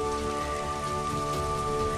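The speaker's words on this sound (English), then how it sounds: "Rain cloud." Rain pours from a rain cloud in the Miraculous cartoon, a steady, even hiss of falling drops that holds without a break and with no voices.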